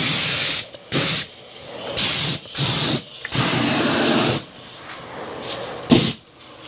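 Spray paint applied to the wheel arch of a 1955 Chevy Nomad, heard as a run of loud, close hissing bursts from a spray gun, some short and some held for over a second, separated by brief gaps.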